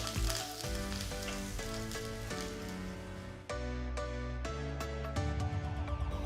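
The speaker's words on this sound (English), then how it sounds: "Next, fry a few curry leaves." A few curry leaves crackle and sizzle in hot oil, a dense, loud frying hiss that holds steady throughout, with a brief dip partway through before it surges back.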